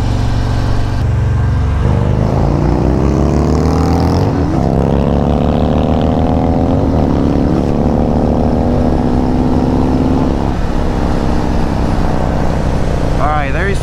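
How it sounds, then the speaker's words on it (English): Two Harley-Davidson touring bikes, a CVO Street Glide and a Road Glide Limited, pulling hard in second gear, the V-twin exhaust note climbing steadily in pitch over several seconds, loud and close, with brief shift dips. "Side-by-side comparison off of second gear, obviously just a tad faster."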